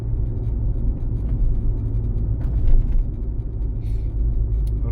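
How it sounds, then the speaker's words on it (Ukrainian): A manual-transmission car drives in third gear at about 40 km/h, its engine and road noise forming a steady low rumble heard from inside the cabin throughout. "Зараз їду на третій передач 40 км на годину."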